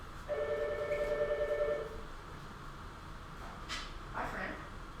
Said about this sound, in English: You can hear my phone's ringing